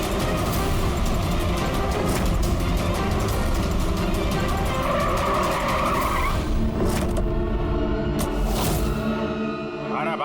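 A car drives hard and skids, tires squealing over a loud engine roar that builds and holds, with sharp screeching bursts in the latter part and a brief lull before the final squeal.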